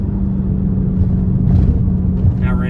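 A Mercedes C55 AMG rumbles steadily through technical turns, its engine drone heard from inside the cabin with a few faint rises in revs.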